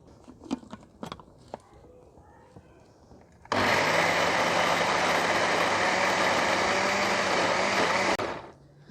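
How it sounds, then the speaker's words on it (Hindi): A kitchen blender grinds ingredients into a coarse paste, kicking in abruptly with a loud steady whirring roar for about five seconds before cutting off, after some faint clatter and handling sounds. "यहाँ पर मैंने ब्लेंडर ले लिया, मिल्क शेक वाला जो जग हम लेते हैं, इसमें डाल के इसको अच्छी तरह पेस्ट बना लेना"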